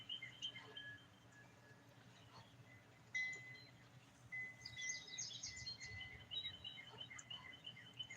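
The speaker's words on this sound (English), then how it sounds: "Can y'all hear the birds?" Birds singing outdoors near a porch: faint, scattered high chirps and short whistled calls over a quiet background hum, distant and soft, with a brief livelier burst of tweets midway.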